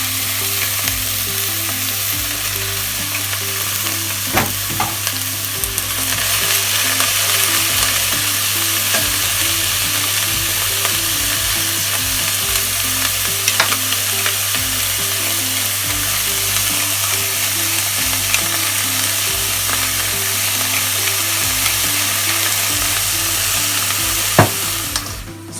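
Chopped leeks fry in a pan with a close, constant sizzle and crackle, broken by occasional scraping knocks of a spoon as they are stirred.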